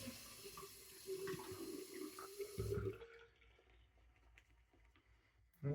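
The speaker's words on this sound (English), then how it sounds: "That should probably do it for the water on this." Water runs steadily from a tap for about three seconds in a shaving setup, then cuts off, leaving faint drips and quiet room noise before a brief clatter at the end.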